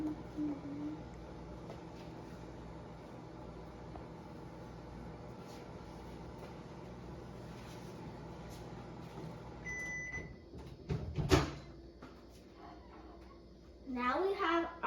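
A microwave oven hums steadily while softening unsalted butter, a low continuous drone with a few beeps and clunks near the end as the door opens, and a voice briefly joins at the close.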